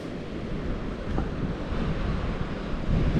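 Sea waves break on a flat surf beach as the tide turns, giving a continuous, even roar of surf and wind noise that swells slightly near the end, with no voices.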